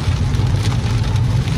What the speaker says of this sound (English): But the rain is still coming down heavy.